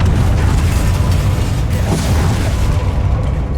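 A Bombarda spell explosion in the video game Hogwarts Legacy: a loud, deep rumbling boom that fills the whole stretch with sustained low-end roar and no pause.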